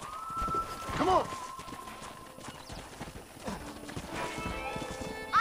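Rapid clip-clop of horse hooves galloping in Red Dead Redemption, with a horse whinnying and a voice calling out over the running rhythm.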